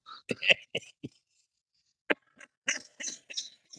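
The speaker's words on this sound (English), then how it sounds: "You got me coughing out." A short burst of several coughs close by, then a pause and a few more rough, throaty bursts, with no talking.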